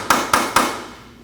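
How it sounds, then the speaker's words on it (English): A punch is hammered into the steering knuckle of a 2003-2008 Subaru Forester during a front lower ball joint replacement, giving three sharp, evenly spaced metallic taps close by, with a ringing decay after the last. "You want to take a punch and tap it in there and spread that open"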